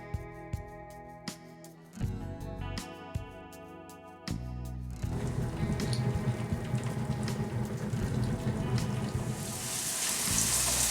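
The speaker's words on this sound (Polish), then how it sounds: "Kotlety smażymy na rozgrzanym oleju z jednej i drugiej strony" Faint tones give way to a steady, crackling sizzle of breaded chicken cutlets frying in hot oil that continues to the end.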